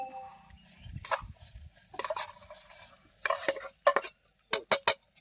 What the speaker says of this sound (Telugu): చూడండి, ఒకసారి అయితే కలుపుకుందాం